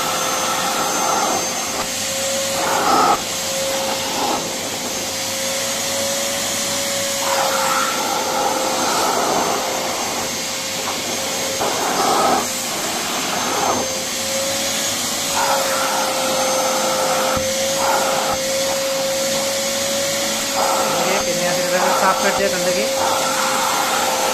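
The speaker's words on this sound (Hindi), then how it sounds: "सक्शन बहुत बढ़िया से साफ कर रहे हैं आप इसको सक्शन कंट्रोल भी आप कर सकते हो" A Eureka Forbes Trendy wet and dry vacuum cleaner runs steadily and loudly nearby, its motor holding a constant whine with a broad airy rush, and the suction tone shifts briefly at a few moments.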